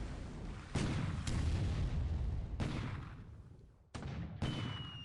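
Naval and coastal guns fire in the War in the Pacific game during an invasion of Darwin, a rapid series of heavy booming blasts with rumbling tails, several shots overlapping and loud, with no talking.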